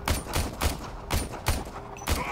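Rapid gunfire from a secondary weapon in the video game Warframe, a quick run of about six sharp shots in a steady rhythm, loud and close with no talk over it.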